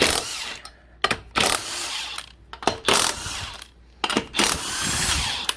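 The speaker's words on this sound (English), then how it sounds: "I'm going to get your little impact gun or a ratchet and just, we're going to go ahead and take these off." Impact gun removing lug nuts from the wheel of a 2000 Nissan Maxima, several loud close rattling bursts of a few seconds each, separated by short pauses.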